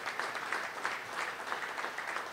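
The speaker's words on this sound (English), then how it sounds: "Let's give a nice round of applause." A crowd claps for a Wizards District Gaming esports team at an ice rink event, steady broadband clapping held at an even level throughout without a break.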